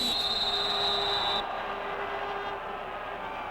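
A referee's whistle blows at a CFL West Semi-Final football game between the BC Lions and Edmonton Eskimos, a steady high tone lasting under a second and a half over a broad stadium crowd roar.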